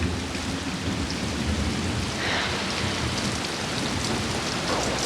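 Steady rain pours down loudly during a thunderstorm, a dense continuous hiss with a low rumble underneath, no voices present.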